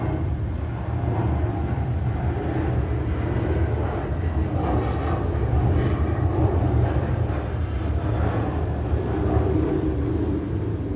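A Southwest Airlines airliner passes overhead above a senior citizen apartment complex near Ontario International Airport, a steady, fairly loud jet roar that swells gently toward the middle and holds without pause.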